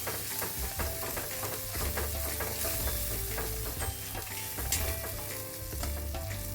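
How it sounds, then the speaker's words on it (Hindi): Ground masala frying in a pan for Maharashtra-style prawn curry, a steady close sizzle with repeated scraping strokes as it is stirred, no voices. "अभी सारे चीज़ों को अच्छी तरह भूनना है, एकदम अच्छी तरह भूनना है मसाला को।"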